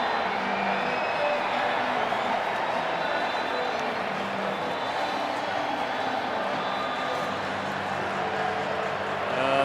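A stadium crowd at a Kenya vs Spain rugby sevens match at the Gold Coast Sevens roars steadily, a broad, sustained wash of cheering with a commentator talking over it.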